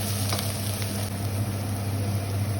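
Continuous sizzling and crackling of onion frying in a pan with a pinch of sugar to caramelize, steady and close, with a low background hum.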